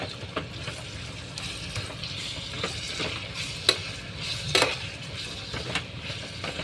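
Onions frying in a pan for okra bhaji, with a steady low sizzle and occasional scrapes and clinks of a spatula stirring, fairly quiet and close, no talking.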